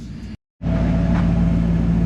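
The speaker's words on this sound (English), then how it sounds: "I just wanted to get this truck running, get all the fluids running through it, get her warmed up" A 1994 Ford F150 4x4 pickup engine runs with a steady low rumble, cutting out briefly for a split second before resuming strongly at a constant idle, close by and alone.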